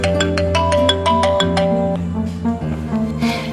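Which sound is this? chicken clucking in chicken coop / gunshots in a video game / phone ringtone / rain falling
phone ringtone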